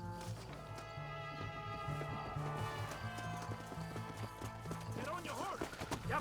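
Rapid clip-clop of galloping horse hooves in the game Red Dead Redemption, over a busy soundtrack with music and a horse whinny, steady and fairly loud.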